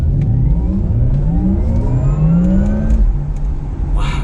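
A Porsche Taycan Turbo electric supercar accelerating hard, its rising synthetic whine climbing steadily in pitch over a loud low rumble of road and motor noise, with no talking.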